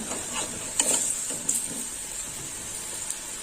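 Vegetable fritters are turned over in hot oil, with a continuous close sizzle broken by several sharp scraping and clinking spatula strokes.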